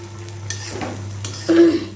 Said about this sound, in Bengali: আমি পোলাও রান্না করতেছি সেজন্য চালগুলো আগে ভেজে নিতেছি